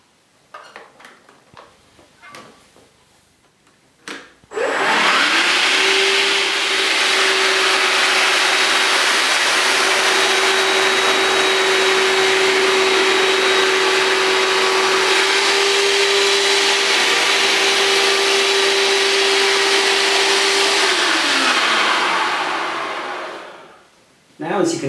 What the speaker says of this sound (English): I want to suck up most of this liquid first before I actually apply the solution and scrub it into the floor.